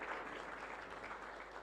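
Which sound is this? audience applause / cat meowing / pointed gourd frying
audience applause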